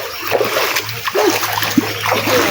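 Water splashes and sloshes outdoors near rocks, loud and continuous with irregular bursts, while voices talk faintly in the background.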